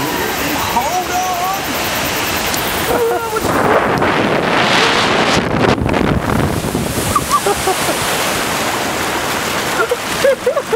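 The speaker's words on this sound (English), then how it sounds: "Sounds like water to me." Water rushes and splashes in a park, a continuous loud roar with wind buffeting the microphone. Voices talk faintly over it in places.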